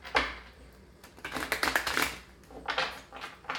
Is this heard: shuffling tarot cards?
yes